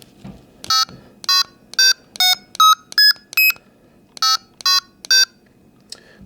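A detector's pocket receiver sounding a series of short, sharp electronic beeps in two bursts, about ten tones in quick succession with a pause between groups, loud and close with no talk.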